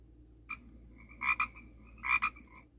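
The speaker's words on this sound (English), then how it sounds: "Pacific tree frog." A Pacific tree frog gives a short call, then two pairs of bright, rapid ribbit-like croaks, fairly close and clear over a quiet background.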